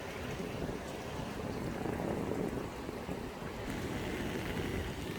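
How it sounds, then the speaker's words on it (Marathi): River water flows steadily near a farmhouse in Karjat during monsoon rain, with waterfalls nearby, forming a dense, constant rushing wash that stays even throughout. "नदीच्या पाण्याचा आवाज तुम्हाला येत असेल"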